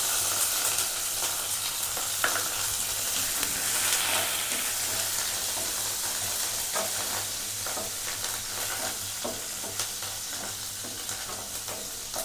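Garlic fries in hot oil with a constant close sizzle and hiss, occasional crackles and spits breaking through, heard alone without talk.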